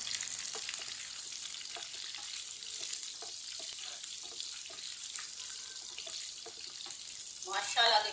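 Cumin seeds, coriander seeds and dry red chillies crackle in hot oil for a moong dal tadka, a steady broadband sizzle with scattered pops and a brief clink near the end, close and moderately loud, no talk.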